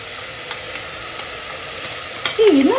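Ginger garlic paste hits a hot pan with a sharp sizzle over a background of steady frying hiss, followed by a louder burst of sputtering at the end, close by.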